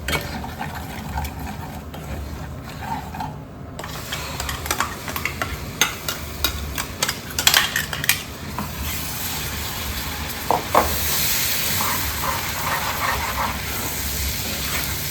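Spice paste with masala and coriander powder stirs and fries in a pan over low heat, a soft, steady sizzle broken by scattered scraping and clicking of the spoon against the pan.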